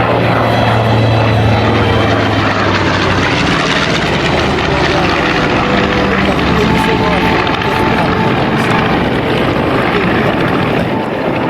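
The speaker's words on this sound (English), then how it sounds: "It is always a privilege to see these magnificent warbirds in the air where they belong" A B-25 (PBJ-1J) warbird flies a demonstration at the Beaufort, South Carolina airshow, its loud, steady piston-engine roar droning continuously beneath an announcer talking over it.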